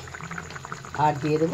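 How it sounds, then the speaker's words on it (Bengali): A soybean curry bubbles and boils in a pan with a soft, steady gurgle, under a voice speaking up close. "তো দেখুন ভালো করে সয়াবিনটা ফুটে গেছে"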